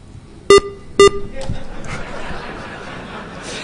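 Two sharp electronic beeps sound about half a second apart during an RDS-TMC traffic message injection demo at a hacking conference, with people talking and chuckling in a hall afterward.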